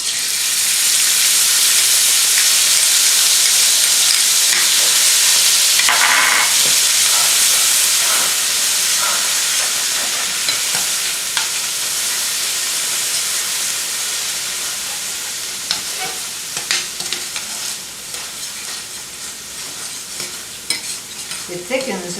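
Tomato sauce sizzles loudly in a hot pan as it is stirred, a bright hiss that gradually settles and quiets, with scraping strokes and small clinks toward the end.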